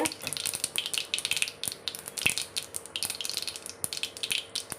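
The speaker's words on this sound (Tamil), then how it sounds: "எண்ணெய் பொரியிற சத்தம் பார்த்திங்கன்னா" Mustard seeds sizzle and crackle in hot cooking oil for a prawn curry, a steady hiss dotted with quick, sharp pops, fairly close and without talk.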